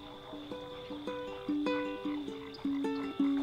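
Frogs croaking at a small pond, a series of close, loud, tonal croaks repeating in a steady rhythm over a constant high insect-like hum, with no talking.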